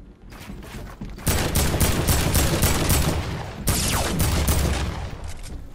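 Heavy assault rifle in Fortnite Battle Royale firing long, rapid automatic bursts, loud and close, with a short break in the middle before the shooting resumes.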